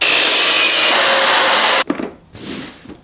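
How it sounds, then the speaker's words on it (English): Steady, loud abrasive rasp of sanding a wooden box for a woodworking build, running continuously, then stopping abruptly, followed by a few quieter scuffs and handling sounds. "Sanding is one of those necessary tasks that we have to do in woodworking"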